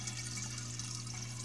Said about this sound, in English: there you see the water pump that's in there